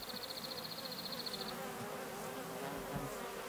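Bumblebees and bees buzz faintly around garden flowers, a soft continuous hum at a distance with a brief higher whine early on and no voices.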